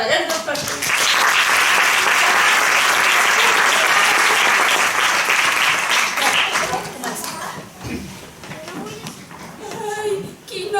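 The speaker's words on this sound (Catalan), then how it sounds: "Un fort aplaudiment per a aquests dos personatges." Theatre audience at a Pastorets nativity play gives a loud, sustained round of applause for two characters, the clapping fading after several seconds as children's voices begin speaking on stage.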